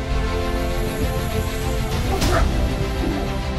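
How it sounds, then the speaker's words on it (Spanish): A pitbull barks loudly at a giant python, a short sharp bark rising out of dense, constant background noise, close and harsh. "El fuerte ladrido del perro comienza como una advertencia."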